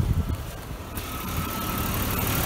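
A Jaguar XJ 3.2 Sport X300 engine runs at idle: a steady, close mechanical hum with a slightly uneven beat early on, smoothing into a constant drone, with no talking.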